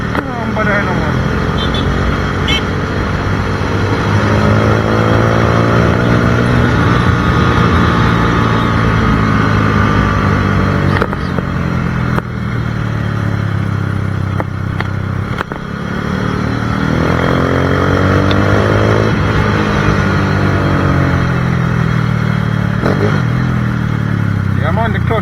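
250cc motorcycle riding on a road in Jamaica, the engine loud and close, revving up and down in repeated rising sweeps with clattering, and people talking over it.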